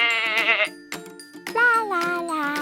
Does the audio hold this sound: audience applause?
no